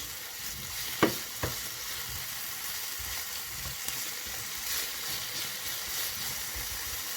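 Oyster mushrooms and chicken sizzle in a hot pan with a steady, even hiss of frying. A couple of sharp utensil knocks from stirring stand out early on, then the sizzle continues alone.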